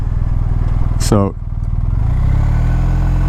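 A naturally aspirated V8 car with a manual gearbox and active exhaust, a steady low engine drone with a quick rising rev near the start, heard under a speaking voice.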